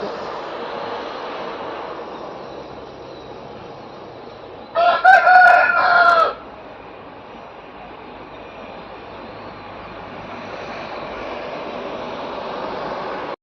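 A rooster crows once, loud and clear, in the morning at a house beside a highway, set against a constant low hum of distant traffic that continues before and after the call.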